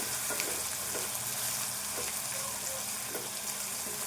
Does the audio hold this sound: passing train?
no